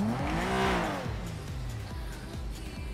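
A car engine revs up and then eases off nearby, the pitch rising and falling as it accelerates, with a gritty, tire-like hiss underneath and no talking.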